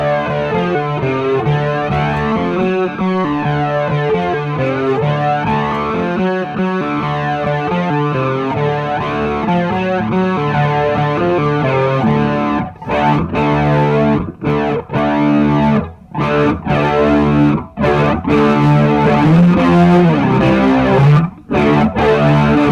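Electric guitar played through a TC Electronic Afterglow Chorus and a Thunderstorm Flanger together, a loud, continuous, swirling and sweeping distorted tone with several brief sharp breaks toward the end.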